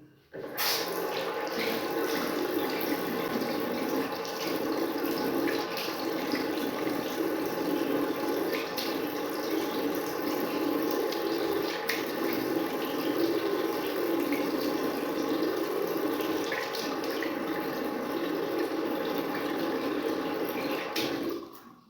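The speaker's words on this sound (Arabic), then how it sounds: "دابا غادي نغسل وجهي، غادي نغسلو غير بالماء ديجا راه نقي" Tap water runs steadily into a sink while someone washes their face with plain water, a continuous close splashing stream with small irregular splashes, running nearly the whole time before stopping.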